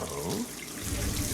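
Water running from an overflowing sink in a Hitman video game, a steady close splashing stream filling the short moment.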